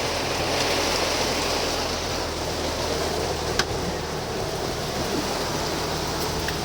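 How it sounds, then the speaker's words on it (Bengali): Steady rain pours down outdoors, a dense, even hiss of drops on surfaces that stays close and loud from start to finish with no voices. "বৃষ্টি"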